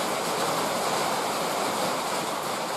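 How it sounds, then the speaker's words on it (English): Steady broadband hiss of a rain shower falling outdoors around a BCS 853 two-wheel walk-behind tractor, a constant, fairly loud wash with no breaks and no voices. "Never mind a little bit of rain shower there."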